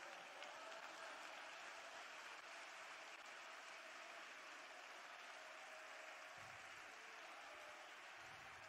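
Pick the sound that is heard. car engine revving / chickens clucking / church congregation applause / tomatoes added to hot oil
church congregation applause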